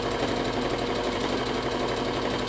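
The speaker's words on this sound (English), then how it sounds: "So just sew around." A sewing machine stitches a fabric handwarmer in a fast, steady, continuous rattling hum, close and unbroken.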